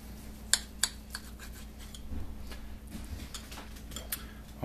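A knife cuts open a cooked beef tenderloin, giving a few sharp, close clicks and taps of the blade early on, then softer scraping against a steady low hum.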